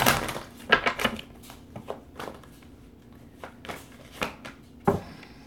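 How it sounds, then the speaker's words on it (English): Tarot cards are shuffled by hand in a quiet room, a few soft, scattered riffles and taps close by, uneven in rhythm, with a brief pause between bursts. "One last shuffle on that."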